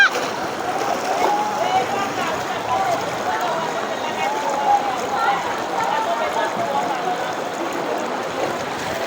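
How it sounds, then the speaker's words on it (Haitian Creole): Floodwater rushes through a town street during a major flood in Anse-d'Hainault, Haiti, a loud continuous watery roar and splash, with people talking underneath. "L'eau prend la rue de Gaïa."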